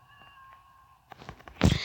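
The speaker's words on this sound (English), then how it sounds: "Come here, kitty cat." An orange cat gives a thin, drawn-out meow, followed by shuffling noises and a sudden loud, harsh burst at the end.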